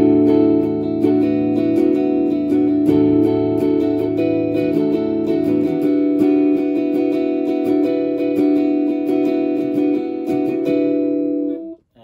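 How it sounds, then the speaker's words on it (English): A Fender Troy Van Leeuwen Jazzmaster electric guitar with middle and bridge pickups combined, played as sustained chords and single notes, loud and up close for about twelve seconds with no talking. "The middle pickup, which is hum canceling, and the two of them are there, sounds like this."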